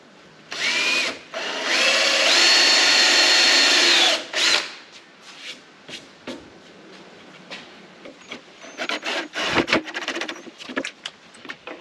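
A power drill whirs loudly in a long burst while countersinking and driving a screw into wood, followed by shorter bursts, clicks and knocks of handling nearby.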